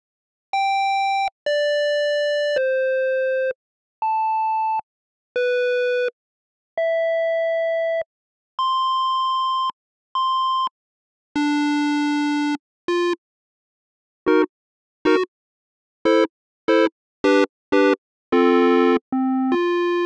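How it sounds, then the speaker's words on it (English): Synthesizer square-wave tones, a series of separate held notes at varied pitches with rich odd harmonics, then quicker short stabs toward the end, clean and alone with no talk. "The next sound is a square."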